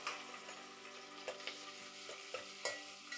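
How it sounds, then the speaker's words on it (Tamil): Shallots, curry leaves and green chillies sautéing in a pan, a close, quiet sizzle broken by light rhythmic taps and scrapes of a stirring spoon. "இது நல்லா இதாகிடுச்சு போட்டு வதக்க வேண்டியதான்"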